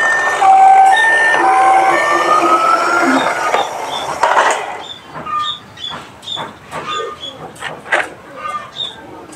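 A red and white toy ambulance sounds a bright electronic siren with wavering, sweeping tones for the first couple of seconds, followed by a run of sharp plastic clicks and clatter.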